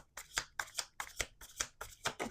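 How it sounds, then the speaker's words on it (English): Tarot cards being shuffled in five quick riffling bursts, each a crisp papery flutter separated by short pauses, close to the microphone. "We're going to do 2 more shuffles."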